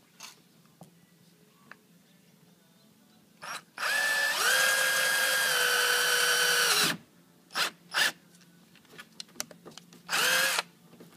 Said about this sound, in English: You drill another hole to the bumper